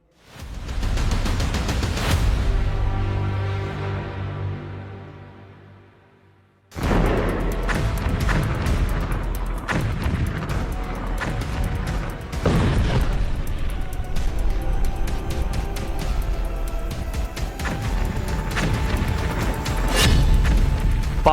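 Bombs from Israeli air strikes on Lebanon explode in heavy, booming blasts: one loud burst rumbles and fades away, then a dense run of overlapping detonations and crackling impacts follows without a break.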